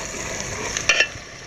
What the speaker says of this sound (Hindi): आपने 2 मिनट प्याज और अदरक का पेस्ट को अच्छी तरह भून लेना है